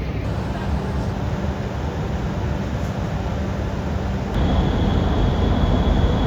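Steady loud rumble of a metro train in motion in Istanbul, a constant roaring drone that grows slightly heavier partway through, with no talking.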